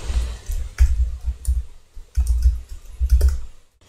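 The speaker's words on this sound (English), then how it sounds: "Click on submit" Clicks of a computer mouse pressing a submit button in Google Tag Manager: several close, sharp clicks in uneven bursts, heard on their own.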